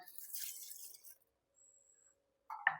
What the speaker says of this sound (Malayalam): അതിനനുസരിച്ച് വെള്ളം ചേർത്ത് കൊടുക്കുക മിക്സി ജാർ ഒന്ന് കഴുകിയിട്ട് ഒഴിച്ചു കൊടുക്കാം